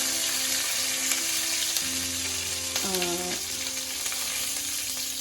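Fenugreek, chillies and coriander frying in hot oil for a Kerala-style fish curry, a loud steady sizzle close up with a brief clatter of stirring partway through.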